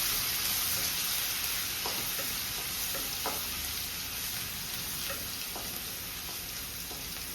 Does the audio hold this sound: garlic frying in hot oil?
yes